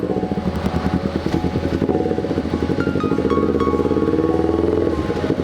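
A Kawasaki Ninja 250R engine rumbles loud and close through a loud aftermarket exhaust, a rough, throbbing note that stays strong and steady throughout, near a cemetery.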